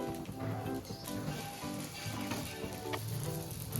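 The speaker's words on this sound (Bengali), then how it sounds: "দুটো সাইডকে আমি একটু হালকা লাল লাল করে ভেজে নিচ্ছি" Patishapta pitha, a Bengali rolled crepe, frying in a pan on both sides until lightly browned, giving a steady soft sizzle that runs throughout at low level with no talking.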